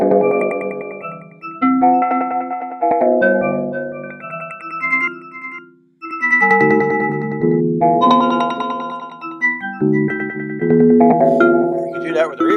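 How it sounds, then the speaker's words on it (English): Synth tones from a Modbap Per4mer modular effects unit run through its delay, with an LFO modulating the effect. Bright pitched notes repeat and trail off in echoing, wavering layers, and there is a short silence mid-way. "So that'll bring in the delay effect."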